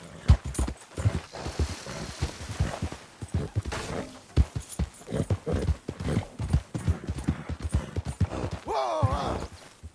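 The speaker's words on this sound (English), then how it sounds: "Who's a good horse?" Horse hooves clip-clop at a walking pace in Red Dead Redemption 2, close and rhythmic, with a short whinny near the end.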